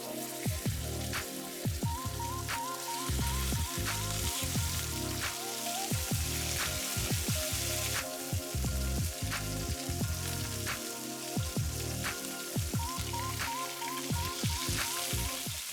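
Five lamb chops sizzle and fry loudly in a preheated iron pan, a steady dense crackle running the whole time, broken by sharp clicks and spatters, with no voices.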